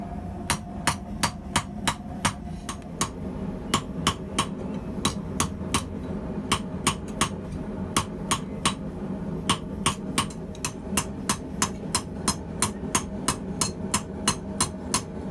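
Forged fork handle hammered on a small anvil: many sharp, ringing metallic strikes in a fast, steady rhythm, close and clear over a low background hum, with brief pauses between runs of blows.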